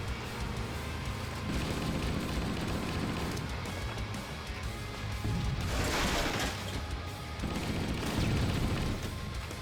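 Rapid bursts of gunfire and booming impacts from the Halo: Master Chief Collection multiplayer game, dense and loud, with short sustained volleys swelling and fading over continuous battle noise.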